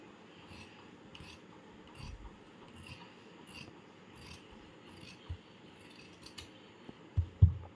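Scissors snip through fabric while a full circle is cut out for a home sewing project, giving faint, close rubbing and cutting sounds that end in a few louder clicks and snaps.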